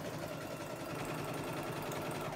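A sewing machine runs a zigzag appliqué stitch in one steady, continuous whir at even speed, close and moderately loud with no talking over it.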